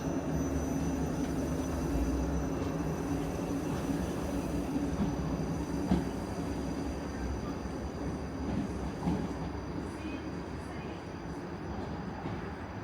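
A South Western Railway train running, a continuous loud low rumble and rolling wheel noise heard from inside the carriage, steady throughout with occasional clunks.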